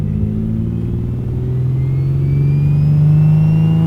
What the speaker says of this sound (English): we'll get to hear like some nice quick spools, some exhaust, some everyday turbo sounds